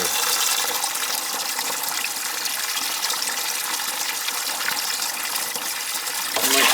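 Water gushing and rushing through gas boiler heating pipes in a dark basement, a steady hissing flow heard close and continuous, swelling slightly louder at the end.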